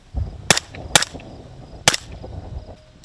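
Sharp, loud gunshots from a supersonic firearm crack out close by, three shots in quick irregular succession, each with a short fading tail, against low background rumble.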